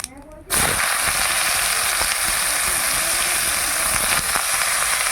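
Pieces of young bottle gourd dropped into hot oil in a pan over a wood fire, already seasoned with dried chilli, bay leaf and cumin, bursting into a loud, sudden, sustained hiss of frying that holds steady for several seconds.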